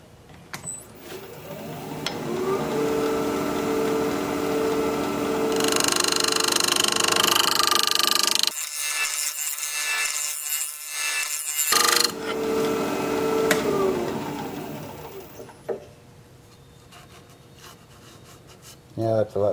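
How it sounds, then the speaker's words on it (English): Rhododendron root bowl being scraped on a wood lathe: a steady whirring hum with a rough scraping rasp, a sudden quiet gap, then more scraping that tapers off, with a voice heard at times. "I'm also going to scrape this right here."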